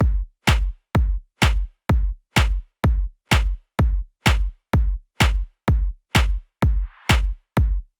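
Layered electronic claps with overdrive, a tight gate and reverb, struck in a steady even rhythm, about fourteen punchy hits with short cut-off tails, loud and alone.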